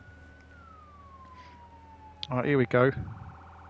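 Fire engine siren in the Firefighting Simulator game on PS5, a steady wailing tone sliding slowly downward throughout, with someone speaking briefly over it near the end.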